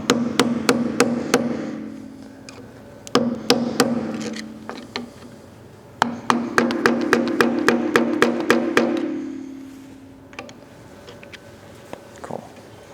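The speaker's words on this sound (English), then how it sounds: "I like to use my hammer and my flathead just to kind of get it started" Metal taps from a hammer striking a flathead screwdriver to bend a cotter pin on a boat propeller, in quick bursts of sharp ringing clinks with pauses between groups, up close.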